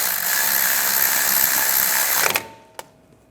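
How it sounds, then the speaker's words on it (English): A ratchet tightens a front brake caliper bolt on a 2008–2017 Buick Enclave with a dense, rapid clicking that stops suddenly, followed by one sharp metallic tap, close up. "when I tighten down the caliper bolt that's closest to the bleeder"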